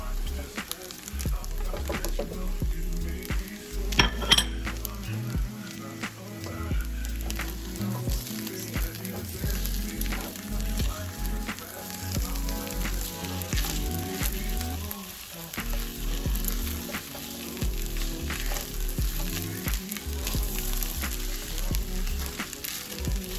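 Stir-fry sizzles and crackles steadily in a hot pan, close by, with occasional stirring clatter and a few faint voices.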